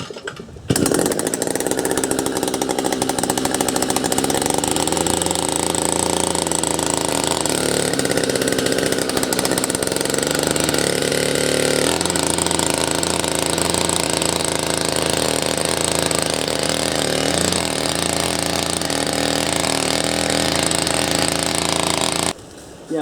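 A petrol post hole drill with a new centrifugal clutch runs for about twenty seconds as a loud, buzzing, rattling small engine whose pitch shifts under load while the auger meets a tree root, then it cuts off abruptly.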